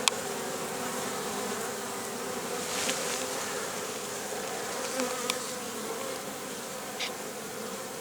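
Honey bees in a hive colony drone in a dense, continuous buzz, close and even throughout, with a few faint clicks and rustles and no talk.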